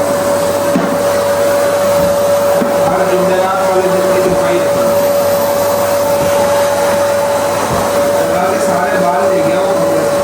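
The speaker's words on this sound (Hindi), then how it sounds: "वैक्यूम क्लीनर तो बंदा ये होता है कि हफ्ते में एक आध दफ़ा लगाता है, पर थॉरली सफाई करता है।" A household vacuum cleaner runs steadily for a weekly cleaning of a room, a loud continuous whine with a constant tone, while people talk over it throughout.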